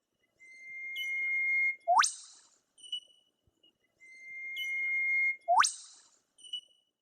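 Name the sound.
eastern whipbird whip-like call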